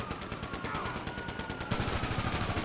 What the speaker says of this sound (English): they are firing at Michael